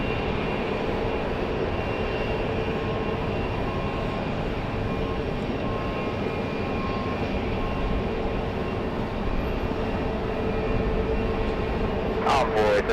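Envoy airliner taking off in rain at Raleigh-Durham airport, a steady broad engine roar with rain hiss holding level throughout, a faint voice murmuring underneath.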